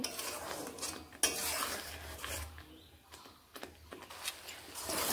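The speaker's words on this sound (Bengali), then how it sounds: "এইবার আমি ভালোভাবে মশলাটিকে কষিয়ে নেব" Spice paste with tomato being stirred and fried in a pan for a pabda fish curry, a spoon scraping and clinking against the metal in irregular strokes over a soft, steady sizzle, close and moderately quiet.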